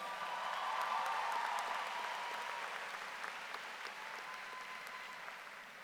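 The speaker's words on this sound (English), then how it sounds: "Let's give them both another round of applause." Graduation audience applause at a high school ceremony, sustained clapping from a large crowd in a big space, with faint cheers, slowly tapering in loudness.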